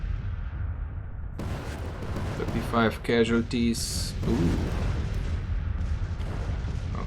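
Cannon artillery fire in a Civil War battle in the video game Grand Tactician: The Civil War, deep booms rolling under steady battle noise while someone talks briefly over them.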